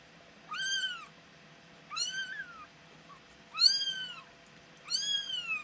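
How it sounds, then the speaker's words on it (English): A kitten, one of a feral mother cat's newborn litter, meows four times in a row, high and fairly close, each cry rising and falling with short pauses between and faint background hiss. "noisy kitten"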